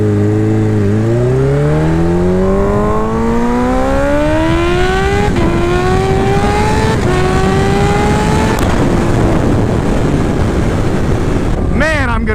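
Kawasaki Ninja H2 motorcycle accelerating hard in second gear, its engine note climbing steadily in pitch with a few brief dips, loud and close under heavy wind rush.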